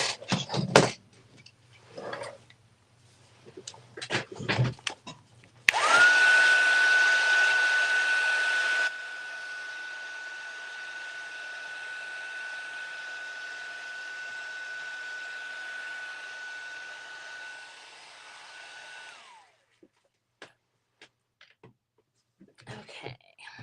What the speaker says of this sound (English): I'm going to hit it with the dryer just because that curve that it has in it now from me getting it wet with the baby wipe is annoying